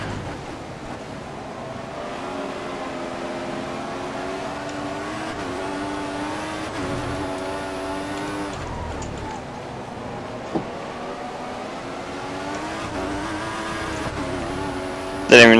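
Formula One race car engine from F1 2014 on the Spain circuit, a steady high-pitched whine that climbs and shifts through gears, holding a loud continuous tone with brief dips between upshifts.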